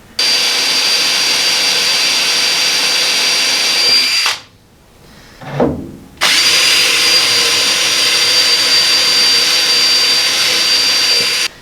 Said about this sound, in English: I think I'm going to drill this center section first and get the bolts in there just to hold it